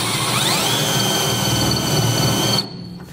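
A half-inch bit in a power drill bores a mark for a fifth wheel trailer hitch installation on a 1996 Ford F-series truck, a loud steady whine with a rising pitch early on, stopping abruptly near the end.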